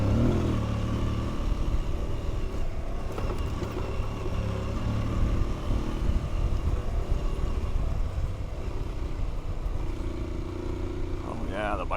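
An adventure motorcycle climbing a hill on a backcountry trail in Idaho, its engine droning in a steady close rumble for the whole stretch, with a rider's voice briefly over it.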